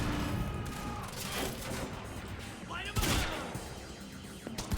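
Bursts of gunfire in the shooter game Quantum Break, rapid volleys and sharp cracks crowding close together amid scrambling noise, with a voice shouting over the action.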